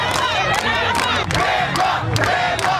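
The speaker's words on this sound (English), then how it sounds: "They're chanting Grandpa" A loud arena crowd at an American Ninja Warrior qualifier chants and cheers in steady rhythmic waves as a competitor stands at the starting line, filling the whole stretch without a break.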